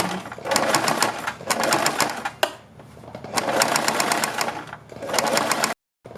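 Sewing machine stitching along the neckline of a kurti, running in loud, rapid bursts of a few seconds each, broken by short pauses and ending in a sudden stop.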